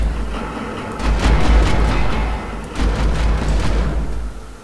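Enemy ship fire in the space game Wayward Terran Frontier, heavy booming blasts rumbling in two long waves, loud and low, with no talking.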